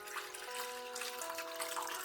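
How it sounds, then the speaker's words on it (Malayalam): Carrot juice poured into a glass for a ginger-lemon-beetroot drink gives a steady liquid trickle and splash that runs the whole time, close and even, with no talk. "ക്യാരറ്റ് ജ്യൂസ് അതുപോലെ ഒഴിക്കാം."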